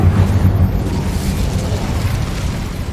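Incendio fire spell cast in the Hogwarts Legacy video game: a loud, sustained roaring whoosh of flames with a heavy low rumble, steady throughout with no talking.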